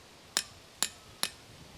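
A hammer strikes boulders in the Boulder Field at Ringing Rocks Park, Bucks County, Pennsylvania: three sharp, bright metallic clinks, evenly spaced and close by, each with a short ringing decay over quiet background.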